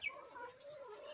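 Chickens and roosters, including crested white and black hens and a black naked-neck, cluck and murmur softly at close range, with a brief higher squawk at the start.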